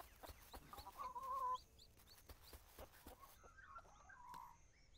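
Chickens cluck in an orchard farm area of the video game Dinkum, two bursts of clucking a few seconds apart over quiet ambient sound with faint ticking footsteps.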